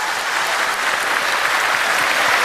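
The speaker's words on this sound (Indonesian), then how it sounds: "Tepuk tangan dong, tepuk tangan" A television studio audience bursting into dense, continuous applause, loud and even throughout with no voices above it.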